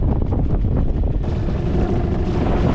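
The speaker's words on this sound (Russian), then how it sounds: "Опять ветер поднялся." Steady, loud wind rumble buffets the microphone throughout while out fishing on a PVC inflatable boat, with a low roaring wash that thickens slightly partway through.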